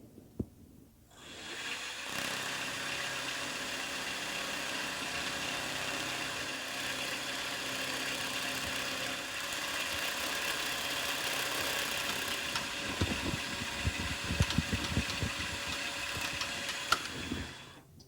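A vertical mill cuts aluminum with a half-inch cutter at 1200 RPM, a steady droning machine whir with whining tonal bands that starts abruptly and holds for the whole stretch, ending in a rougher rattling patch.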